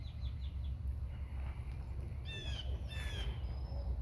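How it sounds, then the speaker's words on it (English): Birds chirp and call in a backyard on a spring morning, a few short bright trills and whistles rising over a steady low outdoor rumble, fairly faint and some distance away. "can you hear all the birds this morning?"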